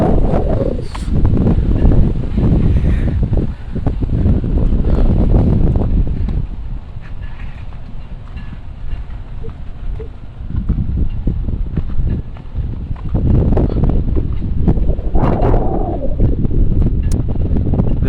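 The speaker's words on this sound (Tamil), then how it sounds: "இந்த சரியான காற்று, குளிரோடு சேர்ந்த காற்று அடிக்குது." Cold wind gusts by the sea on the Vallejo waterfront in California, a loud steady rumble of air buffeting the microphone, swelling and easing through the whole stretch with no voices.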